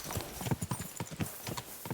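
Rapid, steady hoofbeats of a horse in the video game Kingdom Come: Deliverance II clip-clop on a hard surface, close and moderately loud, in a continuous trotting rhythm.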